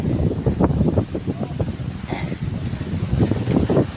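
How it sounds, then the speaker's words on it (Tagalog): Strong wind roars outdoors in close, gusty buffets against the microphone, a continuous broadband rush that swells and eases throughout, with a brief faint voice in the mix. "Lakas ng hangin."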